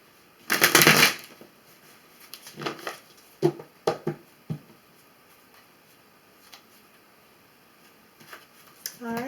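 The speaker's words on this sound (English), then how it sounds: "So we'll do one more shuffle and get right into your reading." A deck of tarot cards is shuffled close up, opening with a loud riffling burst, followed by scattered softer flicks and taps of the cards, then another brief riffle at the end.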